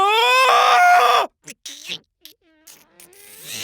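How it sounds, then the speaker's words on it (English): A person lets out a loud, shrill scream lasting about a second, followed by silence broken by a few short, faint noises and rustles. "I need to show you me screaming."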